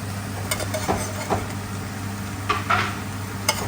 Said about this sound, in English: Now we're going to add our garlic.